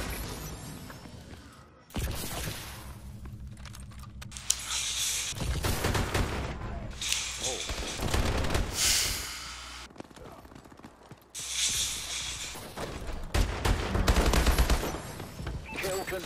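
Bursts of rapid automatic gunfire in Call of Duty: Advanced Warfare come in clusters, loud and close, with mechanical clicks and shattering between volleys and occasional talk.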